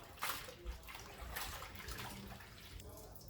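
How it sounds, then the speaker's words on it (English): Soaked rattan shoots are rinsed by hand in water, making soft, faint splashes and sloshing bursts that come in irregular clusters, with quiet room background between them. "So I'm going to rinse it a few times."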